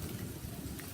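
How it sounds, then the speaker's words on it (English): Steady rain during a nighttime thunderstorm at three in the morning, a continuous dense wash of falling drops with low rumbling beneath, no distinct thunderclap, heard alone. "we're having a thunderstorm."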